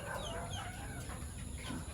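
Hens cluck softly and intermittently as they eat papaya, against steady outdoor background noise, with faint bird chatter mixed in.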